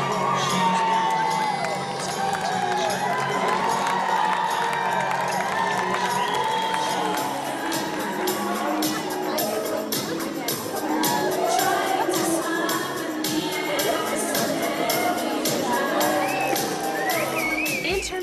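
A pageant audience at the 2012 Mr. Fountain Valley contest cheers continuously, with children shouting, whoops and a dense crowd roar holding steady throughout.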